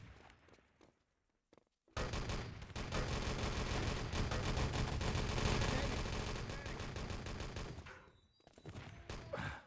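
Dense barrage of explosions and gunfire in Wolfenstein: Enemy Territory, an artillery strike pounding continuously for about six seconds after a short quiet lead-in, loud and rumbling before fading out.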